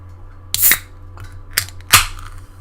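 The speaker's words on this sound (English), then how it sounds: "I have a sody pop here. It's sparkling water, but I haven't opened it." Unopened can of sparkling water being cracked open, giving a few sharp hissing pops and fizzes close to the microphone, with three distinct bursts over a couple of seconds.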